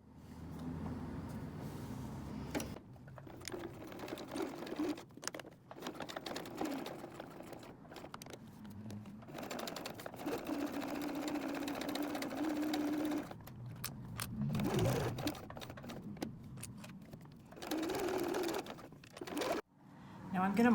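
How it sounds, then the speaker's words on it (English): A sewing machine stitches a cork wallet in repeated bursts of steady motor whirring, broken by short pauses, with a person talking intermittently over the work. "So now we're gonna sew down the side, across the bottom, and up the other side."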